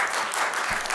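Audience applause breaks out at a city council business meeting, a steady dense wash of clapping filling the whole second at moderate level, with no talk over it.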